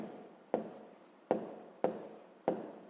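Numbers being handwritten on paper during a fifth-grade math exercise: four crisp pen strokes, each a sharp tap followed by a short scratching trail, evenly spaced and close, in a quiet room with no talk.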